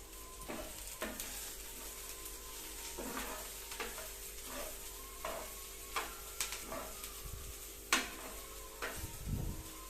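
Onions sauté with a pinch of salt in a pan for rava upma, giving a steady soft sizzle broken by irregular scrapes and taps of stirring, with no talking.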